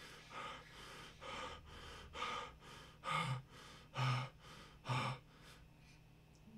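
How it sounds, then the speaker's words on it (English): Deep, slow breaths from a person, close and clear, in a steady rhythm of about seven heavy inhales and exhales with no talking. "I'm breathing very deeply right now."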